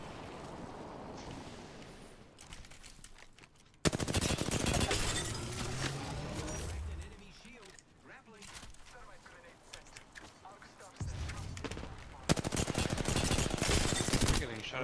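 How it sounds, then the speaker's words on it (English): Video game gunfire in a ranked shooter match: dense, loud bursts of rapid automatic fire come in long stretches, broken by quieter gaps and a few lone cracks. "You're getting shot in the back"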